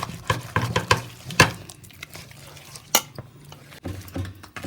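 Ginger-garlic masala for a stingray fish fry being mixed by hand in a bowl, producing wet squelching pats and clicks in irregular bursts, close and fairly loud, with no talking.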